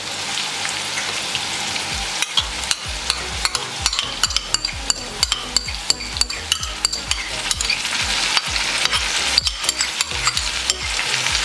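Whole garam masala and yogurt frying for chicken yakhni pulao, a dense crackling sizzle with repeated sharp clicks of a spoon stirring against the pot, close and steady throughout.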